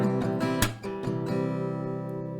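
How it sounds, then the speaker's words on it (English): Acoustic guitar strumming a chord in a steady down-and-up rhythm, close and clear, with no voices. "let's listen for one round of the strumming"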